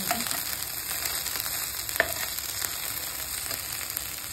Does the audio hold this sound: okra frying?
yes